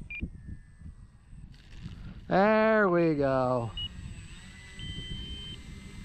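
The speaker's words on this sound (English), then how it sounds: "my timer going off" An electronic timer goes off at an RC flying field during a spring-day flight of a HobbyZone Carbon Cub S2, a loud tone with falling pitch sweeps for about a second, with talk before and after and faint tones later.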